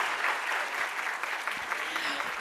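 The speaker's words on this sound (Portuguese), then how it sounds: "uma salva de palmas para ele." Applause from an audience at an entrepreneurship event in Brazil, a steady wash of many hands clapping that holds evenly throughout without letting up.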